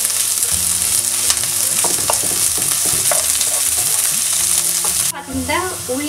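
Chopped garlic and ginger sizzle loudly in hot oil in a pan, stirred continuously with a spatula scraping, before the frying noise suddenly drops near the end.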